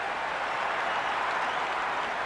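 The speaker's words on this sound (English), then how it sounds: "There's an almost tangible fervour throughout the crowd at the moment." A stadium crowd in the Cricket 26 video game applauds steadily, a dense even wash of clapping at moderate distance with no clear breaks.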